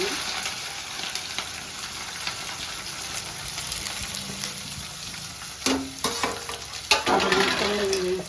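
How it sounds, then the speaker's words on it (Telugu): Sliced onions fry in hot oil in a pan with a continuous sizzle. Stirring clatters near the end. "ఇంకా నూనె వేసేసుకున్నాను నూనె అవుతుంది ఉల్లిపాయలు వేసుకోండి"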